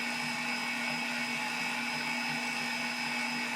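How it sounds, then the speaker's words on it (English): A Cuisinart stand mixer runs at speed 2, a steady, close motor whir with a constant pitch that does not waver, loud and alone with no one talking. "So I'm going to turn this up to number 2. And I'm just going to let that go."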